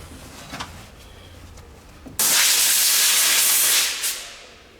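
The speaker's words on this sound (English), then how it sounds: "the area below can be cleaned and dried, here using compressed air in addition to wiping with a microfiber" Compressed air blasts under an oil cooler area in the engine bay of a BMW Z4 3.0si E86 coupe, a sudden loud continuous hiss lasting under two seconds after quiet shop ambience, then tapering off.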